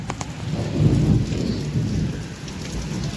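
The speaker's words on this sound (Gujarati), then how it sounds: "બરફના ગાંગડા પડે." Hailstones pound a tin roof during a storm, a dense rattling downpour with a low rumble that swells and then eases, close and loud throughout.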